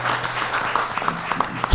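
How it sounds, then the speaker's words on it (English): An audience at a community forum gives a round of applause, a dense wash of clapping from many hands that holds steady for a couple of seconds, with a low hum beneath. "Let's give them a round of applause."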